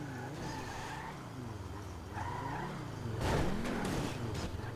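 A damaged, smoking car with a faulty engine drifts and skids in GTA 5, its engine droning steadily while tires squeal and scrub in long rising and falling sweeps, louder near the end.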